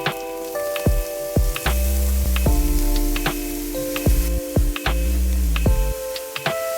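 Beetroot and carrot sizzle steadily in a hot pan while a utensil scrapes and clinks against it in irregular strokes, close and fairly loud.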